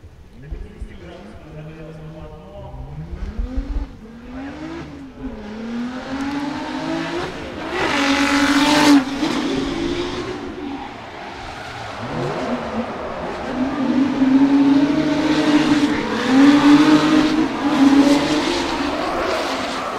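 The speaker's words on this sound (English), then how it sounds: "Toyo car is just warming up now" Drift car on the RDS GP qualifying track at Sochi, its engine revving repeatedly and rising to a sustained high-pitched roar, with tire noise and commentators talking over it.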